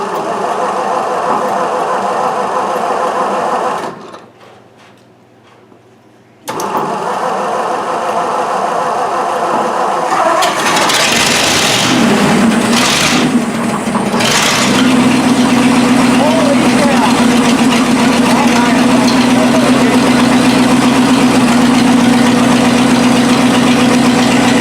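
A 1956 Lincoln Y-block engine cranks, catches and fires up, then settles into a loud, steady idle with a rough, throbbing hum, following a brief quiet gap; voices talk nearby.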